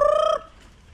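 A breeder rooster calls close by in a single short, loud crow-like cry that cuts off abruptly, with no talk over it.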